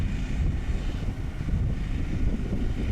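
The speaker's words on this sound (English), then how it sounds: "this wind was just ripping" Strong wind blowing across a golf course, a loud continuous roaring buffet of gusts battering the microphone, with no voices and no breaks.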